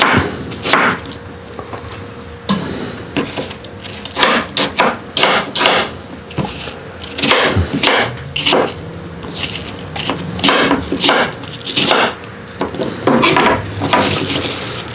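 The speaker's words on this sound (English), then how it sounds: "we mix all the ingredients in the crock pot except for the vanilla and the booze" Ingredients for moonshine apple butter being mixed in a crock pot, with a busy run of close, loud clinks, knocks and scraping utensil strokes against the pot, irregular and continuous, with no voices.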